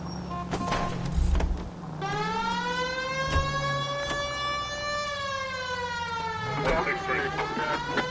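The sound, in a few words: police car siren in a video game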